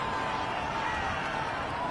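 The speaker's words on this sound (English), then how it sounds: "Well, this crowd does not like that call. Understandable reaction from them." A stadium crowd in the Madden 21 football video game reacts to a penalty call with a dense, steady roar of many voices, loud and continuous throughout.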